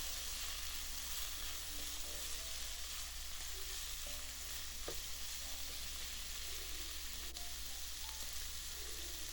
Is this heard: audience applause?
no